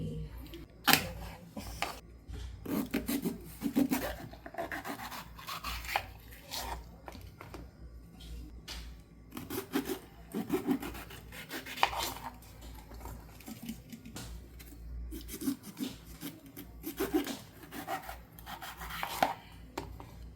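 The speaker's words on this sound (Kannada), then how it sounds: "ಮೊದಲಿಗೆ ಮೆಣಸಿನಕಾಯಿಯನ್ನು 2 ಭಾಗವಾಗಿ ಕಟ್ ಮಾಡೋಣ" A knife cuts green chillies in half for mirchi bajji, with a long run of quick, close chopping taps on a board that comes in uneven bursts.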